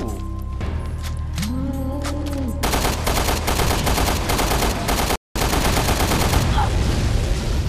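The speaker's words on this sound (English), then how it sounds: "There's machine gun ammo right there." Machine gun fire in the video game Resident Evil Revelations 2: after a stretch of quieter game sounds, rapid dense bursts of automatic shots hammer out loudly, with a brief break before continuing.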